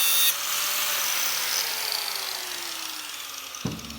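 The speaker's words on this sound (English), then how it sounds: "Stop grinding with a cutoff wheel." A cutoff wheel grinds an exhaust header with a loud, steady, high-pitched abrasive whine that slowly winds down, followed by a short knock near the end.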